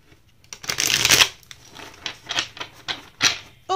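Tarot cards being shuffled by hand, a dense riffling burst followed by several shorter, softer card flicks at an even pace, close and clear with no talking.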